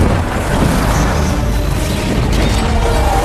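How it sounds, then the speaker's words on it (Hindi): Cannon fire bombarding fortified city walls in a medieval siege, rendered as a sound effect: a continuous dense roar of booming blasts and rumbling impacts that stays loud throughout, with no clear gaps between shots. "अगले 5 दिन तक सलाहुद्दीन की तोपें इसी तरह हमला करती रही"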